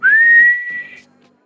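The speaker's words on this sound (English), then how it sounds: "without them activating the whistle" A single sharp alarm whistle from a guard in the Sly Cooper and the Thievius Raccoonus video game, one loud rising tone held for about a second before cutting off, alone with no talk.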